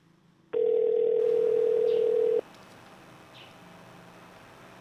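A telephone dial tone sounds alone as a steady, loud, pure tone for about two seconds, then cuts off, leaving faint room noise and a couple of soft chirps.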